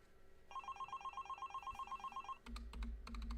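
A telephone rings with a rapid trilling electronic tone for about two seconds, then stops, and close keyboard typing resumes.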